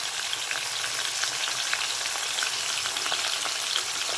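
Fish heads frying in a pan of mustard oil with fish oil added, a loud, steady, dense sizzle and crackle that runs continuously without pause and with no voices.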